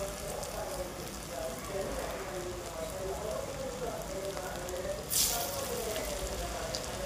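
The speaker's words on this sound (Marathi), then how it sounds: "अशा तेलात सोडायच्या थोड्या थोड्या, मीडियम फ्लेमवर तळायच्या" Small dough balls frying a few at a time in hot oil in a kadhai over a medium flame, giving a steady, soft crackling bubble throughout with one brief louder sizzle burst near the end; speech is faint underneath.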